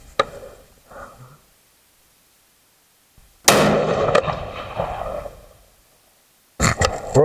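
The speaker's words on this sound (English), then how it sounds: "Let's fire at another one." Rifle shots at a shooting range on a farm: loud, sharp cracks followed by a lingering rumble, one sudden burst mid-clip and another at the end, with quieter rustling and handling sounds between them.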